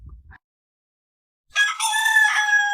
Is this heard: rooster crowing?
yes